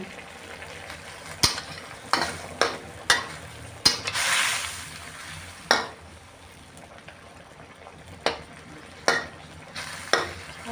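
Spicy catfish stir-fried in a pan, with a soft steady sizzle and repeated scraping, clattering strokes of a spatula stirring at an uneven pace, close and moderately loud, with no talking.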